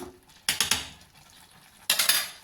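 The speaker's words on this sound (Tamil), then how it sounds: "சேர்த்துட்டு திருப்பி மிக்ஸ் பண்ணி விட்டுக்கலாம் மிக்ஸ் பண்ணிவிட்டு" Paneer biryani stirred in a metal pot with a spoon, two short bursts of scraping and clinking about a second and a half apart, close and fairly loud, with no voices.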